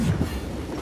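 Train rolling on rails in the Western shooter game Call of Juarez Gunslinger, a brief, dense low rumble of wheels and carriage, steady and alone.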